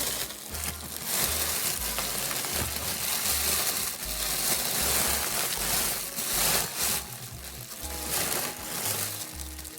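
Close crinkly rustling and crushing of a stiff petticoat being rolled tight and packed into a bag, continuous scrunching in uneven bursts with soft thumps, no talking.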